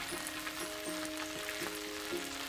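Chinese large scallions and red chili pepper sizzle in a hot pan, a steady, faint crackling frying hiss with soft background tones running throughout.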